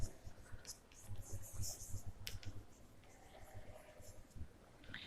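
Pen scratching across paper while writing out given values for a cylinder problem in a 9th standard maths lesson, faint intermittent strokes under quiet speech.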